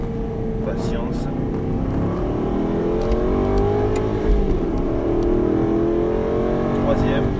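Aston Martin V8 Vantage engine pulling hard on a racetrack at Dreux, a steady loud drone with rising pitch as the throttle opens fully, a voice talking over it.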